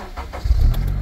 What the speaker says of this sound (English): Let's switch on the engine.